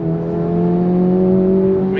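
A Honda Civic Type R engine pulls hard on throttle, a loud, steady rising drone with strong harmonics heard from inside the car, without talk.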